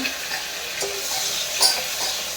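Onions, tomatoes and curry leaves sautéing in a pan, a close, steady sizzle with soft scraping stirs and small bursts of spattering, no voices.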